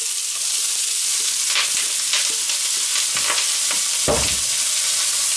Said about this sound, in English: we are going to start putting in our onion and garlic